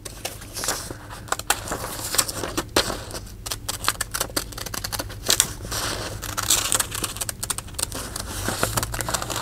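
Scissors snipping through a printed paper church bench, a busy run of crisp cuts and paper rustles close by, continuous for several seconds.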